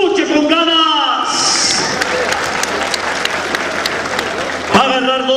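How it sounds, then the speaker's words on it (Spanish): Crowd applause at a rodeo bull-riding event in San Pedro, sustained clapping from a large audience under an announcer's amplified voice, with some cheering. "Díganmelo con un fuerte aplauso, que se escuche con ganas."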